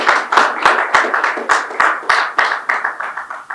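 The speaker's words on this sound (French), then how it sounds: "Et je vous demande de l'applaudir très fort." Applause from an audience at a public ceremony for a coronavirus donation, heard as loud, dense clapping with a run of sharp, regular beats standing out over the steady patter, close and without speech.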